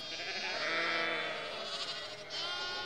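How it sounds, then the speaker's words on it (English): Sheep and lambs on a farm bleat loudly and close by in a sustained, wavering call that shifts pitch partway through, with no talking over it. "we have lots of sheep and lambs"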